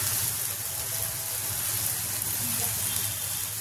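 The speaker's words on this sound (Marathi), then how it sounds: "आपण त्यामध्ये मसाला ऍड करायचा आहे आणि चांगलं भाजून घ्यायचं आहे" Masala spices roast in a pan for chana masala, giving a continuous, even sizzle with faint stirring, steady and close throughout.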